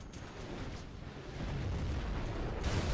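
A nuclear missile strike in the real-time strategy game C&C Generals Zero Hour: a deep, continuous rumbling roar that swells louder halfway through and holds, with no voices over it.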